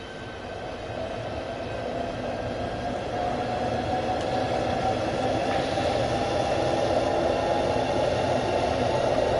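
A Southeastern Class 395 Javelin high-speed train runs in the Train Sim World 2 game on the Faversham to London St Pancras line, giving a continuous, loud, steady roar of rolling wheels and motors with an even hiss throughout and no voices.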